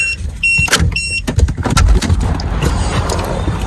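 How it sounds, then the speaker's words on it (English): A 2015-2018 Subaru Outback 2.5i with an aftermarket remote start shuts off its engine: electronic chime tones, then close, loud mechanical clunks and rumbling that settle into a steady hum. "we'll press on the brake. That'll shut the car off."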